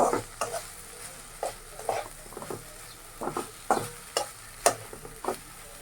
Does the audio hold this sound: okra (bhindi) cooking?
yes